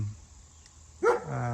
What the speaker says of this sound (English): So pardon the dog again